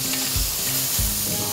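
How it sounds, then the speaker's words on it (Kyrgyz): Chicken fries in a hot pan with a loud, steady sizzle, and soft thuds from stirring or turning the pieces come every half second or so. "Тоогубузду кууруп келдик."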